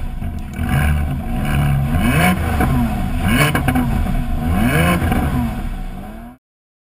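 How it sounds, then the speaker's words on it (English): A Porsche Cayman S fitted with an aftermarket exhaust revs up repeatedly, its engine note rising and falling in several loud, close throttle blips before cutting off abruptly. "This is what the exhaust should sound like."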